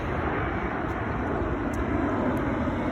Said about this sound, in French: l'avion qui passe là